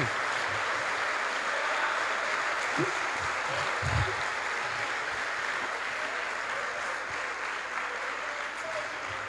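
A church congregation breaks into a strong, sustained round of applause, dense and even, filling the room at steady volume for the whole stretch.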